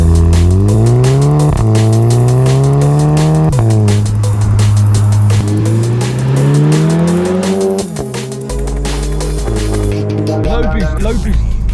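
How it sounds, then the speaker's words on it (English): A VW Scirocco with a new exhaust and turbo revs hard through the gears, its deep engine note rising and dropping at each shift, loud and close from inside the cabin, with excited voices talking over it. "I can hear the turbo"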